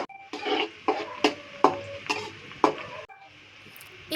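Onions and green chillies sizzling in hot oil, with a steady fry hiss punctuated by about half a dozen sharp, rhythmic spatula scrapes against the pan before the sound drops to a softer simmer.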